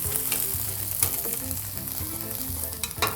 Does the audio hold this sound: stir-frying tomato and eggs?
yes